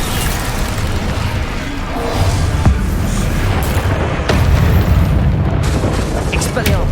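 The Incendio fire spell in the Hogwarts Legacy video game, loud booming blasts with crackling bursts and sharp impacts amid steady battle din, with character voices shouting over the fight.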